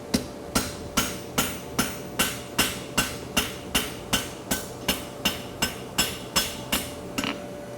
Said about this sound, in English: Now I'll start pulling out my frog support with the round of my hammer.